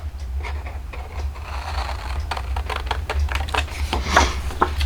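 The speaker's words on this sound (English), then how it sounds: "I'm just going to use a larger pair of shears just to cut this off" Large shears snipping through card paper while trimming a fall pop-up greeting card, giving a run of crisp, close cutting clicks and crunches that grow denser toward the end.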